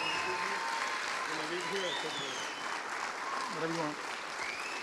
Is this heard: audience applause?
yes